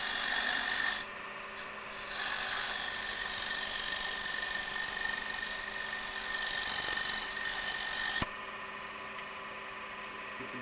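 A woodturning gouge rides against a spinning piece on a lathe while truing it up, a steady rough scraping and rasping with a constant motor whine, close and continuous, easing off abruptly near the end.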